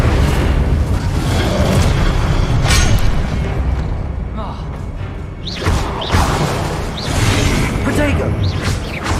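Fire spell bursts in Hogwarts Legacy, a series of loud booming, whooshing blasts and crashes over a busy game soundscape, with a voice calling out spells throughout.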